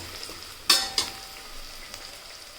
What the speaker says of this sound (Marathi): ही पेस्ट सुद्धा आपण आता कांद्यामध्येच मिक्स करून घेऊयात